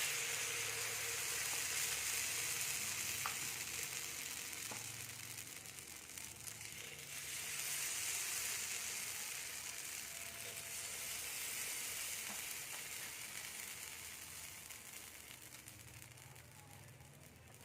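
Coconut bibingka batter sizzling steadily in a lightly oiled pan, a soft continuous hiss and crackle heard close with faint clinks of utensils in the background.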